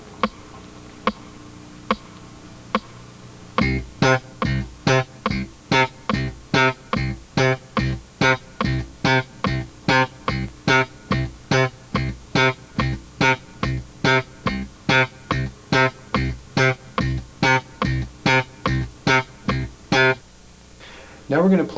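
Short staccato slap bass guitar notes played in a steady, even rhythm against a metronome, whose faint ticks lead in before the punchy, evenly spaced plucks take over and continue close and loud.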